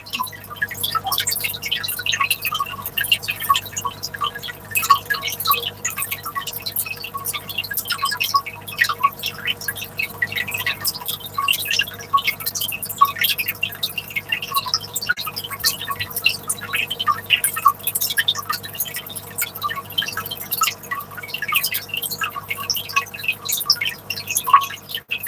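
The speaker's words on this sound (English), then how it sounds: "Doing 100-gallon water change, Billy." Water drips and trickles steadily during a 100-gallon aquarium water change, a dense patter of small irregular splashes continuing throughout at close range over a low hum, with no talking.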